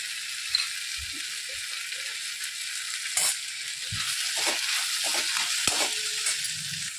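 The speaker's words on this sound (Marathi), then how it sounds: "छानपैकी असं भाजून घेऊया." Tomato and grated fresh coconut roast in a pan for a cashew masala, giving a quiet, steady sizzle broken by a few sharp scrapes and taps of stirring.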